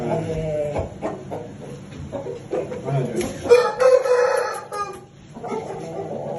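Champion fighting rooster at a poultry market: a single loud, drawn-out crow rings out midway, close and clear, among clucking birds and people talking nearby.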